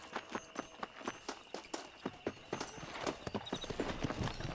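A ridden horse trots in Red Dead Redemption on PC, its hooves clip-clopping in a quick, steady, close rhythm that speeds up slightly toward the end, with no speech.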